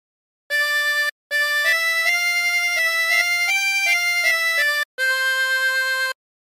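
A 16-hole tremolo harmonica plays the Squid Game theme phrase alone, as a string of bright, close, steady reedy notes in three connected runs with short breaths between them.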